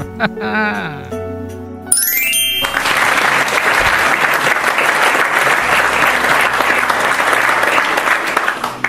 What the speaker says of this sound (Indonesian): Tepuk tangan dulu lor.